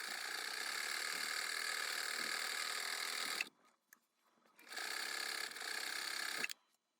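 A sewing machine stitches cloth pads in two loud, steady runs, the first about three and a half seconds and the second about two, with a short quiet gap between them and no talking.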